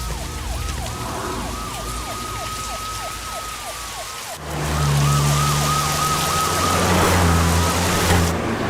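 Police vehicle siren wailing in a steady rising and falling pattern, layered over heavy rain and rumbling thunder; the siren carries on after a sudden louder burst of rain and low rumble midway.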